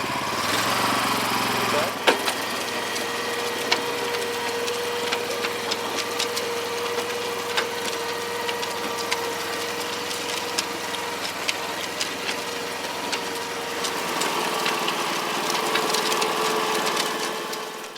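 A BCS two-wheel tractor running with its PTO engaged to drive a rotary tiller in a market garden, a steady mid-pitched engine drone with rattling, close and continuous, and a brief spoken word near the start.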